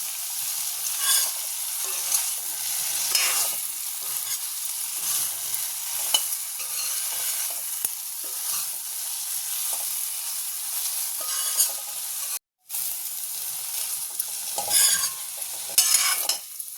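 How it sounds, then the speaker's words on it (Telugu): Soya chunks fry in a hot pan with a continuous loud sizzle and crackle, broken by a brief moment of silence near the end. "ఇలా ఒక రెండు నిమిషాలు ఫ్రై చేసుకుందామండి"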